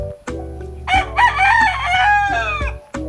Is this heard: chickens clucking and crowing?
yes